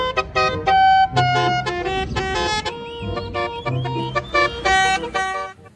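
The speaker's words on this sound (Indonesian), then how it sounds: "Wih, ada bus telolet." A toy telolet bus horn plays a bright, tooting melody in short repeated bursts, loud and close, with brief pauses between phrases.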